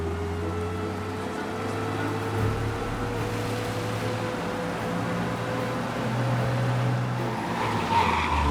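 Car in the Mafia video game speeding away from police, engine droning steadily with tires squealing and skidding through turns, close and continuous for the whole stretch with no talk.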